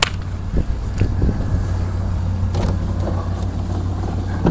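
An old truck engine, started after two years of sitting, idles steadily with a deep, rumbling low drone, close by, with a few faint clunks over the running motor.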